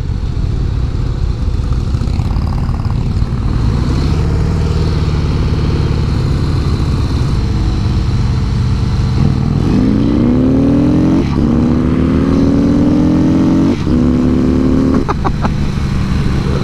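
A 2017 Harley-Davidson CVO Breakout motorcycle rides on, its engine a loud, steady rumble with rising revs as the gears shift up, heard up close and without talk.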